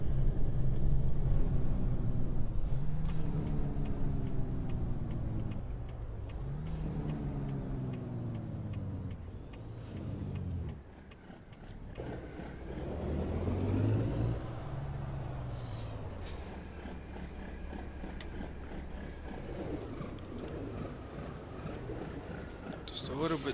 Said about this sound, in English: Jake brake here.